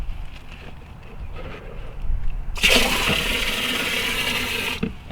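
Garden water sprayed into a DIY solar-powered hydroponic container holding nutrient solution for mustard and napa cabbage, a steady close rushing hiss that starts abruptly midway and runs about two seconds before stopping, with no talk over it.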